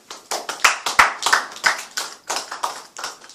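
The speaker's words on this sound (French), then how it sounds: "Acclamons pour la parole." A church congregation clapping in acclamation during a worship service, a steady rhythmic run of crisp, loud claps in an even beat, with no talk over it.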